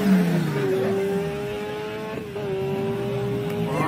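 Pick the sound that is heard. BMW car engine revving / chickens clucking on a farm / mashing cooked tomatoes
BMW car engine revving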